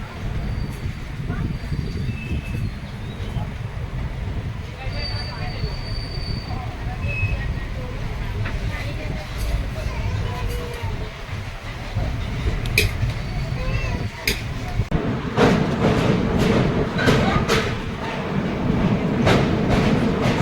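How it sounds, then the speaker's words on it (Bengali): Steady rumble of an express train crossing a bridge over the Subarnarekha River, rattling and clanking throughout, growing louder and busier toward the end with sharp metallic clicks. "আমাদের ট্রেন এখন সুবর্ণরেখা নদী পার করছে"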